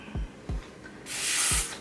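Short pump clicks followed by a steady close hiss of spray applied to the lace front of a glueless straight 13x4 lace front wig during installation.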